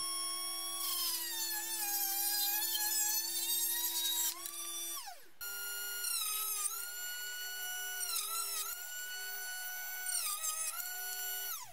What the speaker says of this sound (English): The diamond wheel cuts through the tube like a knife through butter.